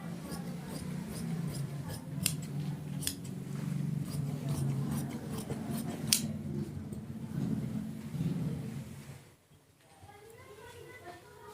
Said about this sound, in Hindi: अब ये नीचे से काट के इसको निकालो